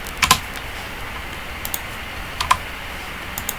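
A computer keyboard clicks out a short Ctrl D shortcut in Microsoft Excel, giving a few light, close taps in two small bursts over near silence.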